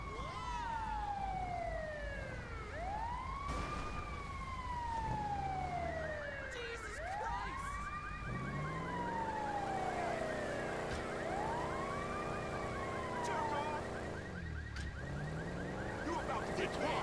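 Several wailing ambulance sirens in a video game rise and fall in overlapping sweeps, loud and continuous, with engine rumble underneath.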